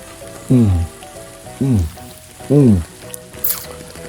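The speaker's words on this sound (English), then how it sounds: "Raining means water is falling steadily from the clouds" Steady rain hisses in the background while three short voiced sounds break through at regular intervals.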